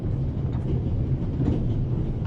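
Steady low rumble of a train interior in the adventure game The Raven, a continuous rolling drone with faint rhythmic clatter, close and even throughout with no talk.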